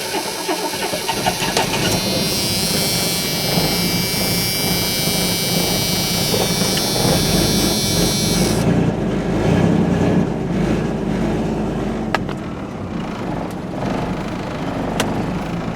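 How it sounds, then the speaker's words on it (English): A carbureted 2.8 liter V6 truck engine with a Rochester carburetor cold starts in 5-degree weather. It cranks and catches, then settles into a loud, steady, rough idle heard up close, with no talk. "Let's see if the carbureted V6 will start in 5-degree weather."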